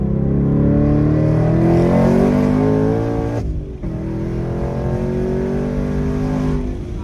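A twin-turbo Ford Mustang S650 accelerating hard, its engine roaring loud and rising in pitch through a gear, a brief drop at the shift, then pulling strongly again up close.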